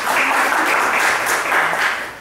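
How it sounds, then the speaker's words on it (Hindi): A congregation at a church service claps loudly and densely, a brief burst of steady applause that fills the room and then begins to fade. "लो जी, तालियां जोरदार लगा।"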